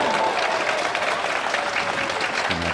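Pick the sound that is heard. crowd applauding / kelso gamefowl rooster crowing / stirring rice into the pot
crowd applauding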